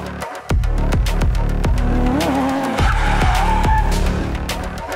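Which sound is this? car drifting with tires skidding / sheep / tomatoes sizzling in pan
car drifting with tires skidding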